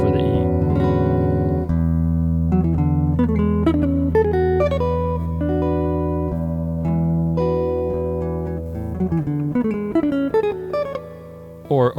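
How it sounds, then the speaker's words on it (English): A guitar runs an E Mixolydian lick of quick single notes over a ringing low note, then lands on a dominant chord; close, steady and loud, with no talking. "I'm kind of landing on that chord, which is kind of an interesting dominant sound there for the E."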